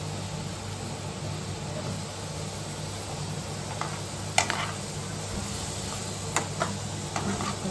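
Kantoli vegetable with spices stirred and fried in a pan, a steady soft sizzle with occasional sharp scrapes and clinks of the spoon, close and continuous without speech.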